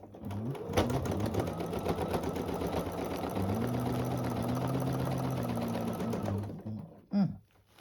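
A sewing machine runs a continuous fast stitching burst along a seam guided against the side of a template for a quilt block, close and steady for several seconds before stopping, followed by a short clunk.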